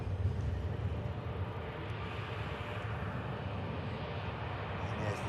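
A British Airways Airbus A320 jet at a plane-spotting spot gives off a steady, broad engine roar that holds evenly throughout, with no clear rise or fade.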